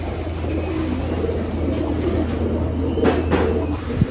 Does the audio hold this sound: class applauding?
no